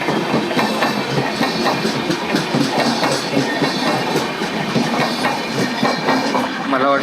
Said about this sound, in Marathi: मला वाटलं माझी ट्रेन आली काय